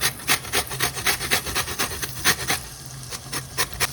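Fresh zest is grated over pasta in a quick run of rhythmic rasping strokes, close and crisp, about three per half-second before slowing near the end.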